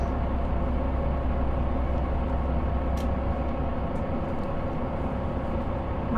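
JR N2000 series limited express Uzushio train on the Kotoku Line pulls away from the platform, a steady low engine rumble and hum heard from inside the car, with no one talking.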